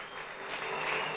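Crowd applause fills a packed boxing arena after a women's championship bout, a dense, steady roar of clapping throughout the short moment.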